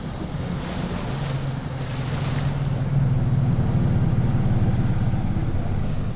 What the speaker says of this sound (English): The waves are breaking on Ningaloo Reef